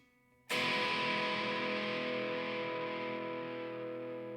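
A distorted electric guitar chord on the bridge pickup of a TE-style kit guitar is struck once and rings out loudly, sustaining with a bright, gritty tone.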